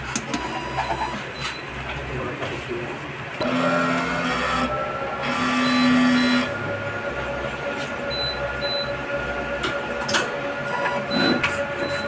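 Mechanical whirring and humming of a sublimation printer capping its printhead and running a nozzle check, with motor shifts, a sustained tonal whine and occasional clicks, heard close.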